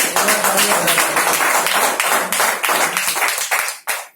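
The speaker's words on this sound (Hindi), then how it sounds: "तालियां बजाओ" An audience at a business seminar claps hands in a loud, dense round of applause that carries on steadily before tapering off with a final few claps.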